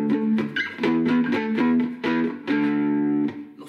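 Distorted electric tone from a 22-inch short-scale cigar box guitar with a single-coil pickup, driven through an amp for distortion; a run of strummed chords and sustained notes, loud and close, with no talking.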